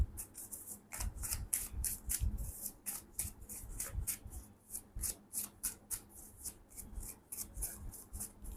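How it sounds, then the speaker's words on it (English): A tarot deck being shuffled repeatedly, a rapid series of crisp riffling bursts in a steady rhythm, close up with no talking. "I'm going to give this deck a really good shuffle"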